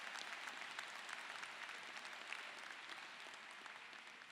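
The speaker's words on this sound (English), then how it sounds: "Give yourselves a round of applause." Graduates and guests at a fall college commencement ceremony for a social sciences class applaud together, a dense, steady wash of clapping held at an even level from start to finish.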